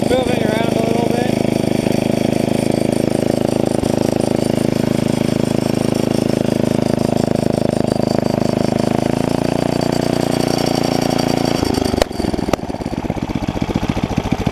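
A Tecumseh 11HP mini bike engine with a CVT torque converter runs steadily at a loud, close idle with a dense throbbing drone, briefly stuttering and changing pitch near the end, while people talk over it.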